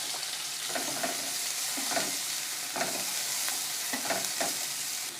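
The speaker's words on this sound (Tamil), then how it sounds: "நெய் உருகுனதும் மீடியம் சைஸ் வெங்காயம் ஒன்று நீல வாக்கில் கட் பண்ணி வச்சுருக்கேன்" Medium onion sliced lengthwise frying in melted ghee in a pan for capsicum tomato rice, a close steady sizzle broken by rhythmic stirring scrapes about once a second, with no talking.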